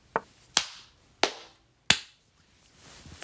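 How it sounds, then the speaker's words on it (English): Hands clapping at a desk after a solved chess puzzle: four sharp, close claps spaced roughly half a second apart, each decaying quickly, followed by quiet room tone. "I don't know why I'm clapping after every single puzzle"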